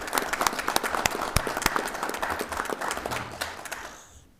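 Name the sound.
council meeting audience applause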